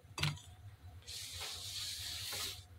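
While a cake is being decorated, a sharp burst of aerosol spray, then a longer steady hiss that pauses briefly and resumes, fairly close and on its own.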